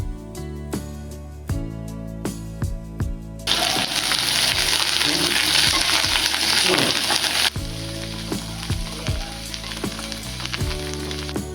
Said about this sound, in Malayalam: അപ്പോൾ ഇതിലേക്ക് ഈ മല്ലിയിലയും കൂടെ ഒന്ന് ഇട്ട് കൊടുത്ത് നന്നായിട്ടൊന്ന് വഴറ്റിയെടുക്കാം